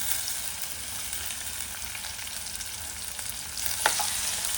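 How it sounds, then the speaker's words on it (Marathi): Okra sautéing in a pan gives a steady, loud, close sizzle throughout, with a brief scrape of stirring near the end and no voices. "भेंडी चांगली परतून घ्यायची."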